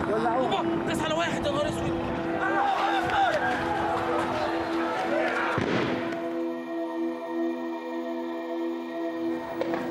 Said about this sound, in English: You can see more tear gas being fired at the protesters, and more of them are coming our way.